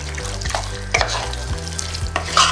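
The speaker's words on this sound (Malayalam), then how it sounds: "ഇനി നമുക്ക് ഇതിലേക്ക് ചിക്കൻ ചേർത്ത് കൊടുക്കാം." Medium-cut chicken pieces, a kilo of them, frying in a pan for Thalassery chicken dum biryani, rhythmic stirring scrapes and knocks over a loud sizzle, close up with no voices.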